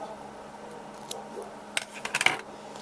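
Scissors snip off a loose end of crochet yarn on a baby beanie, giving a few quick, light clicks and snips close by in a quiet room.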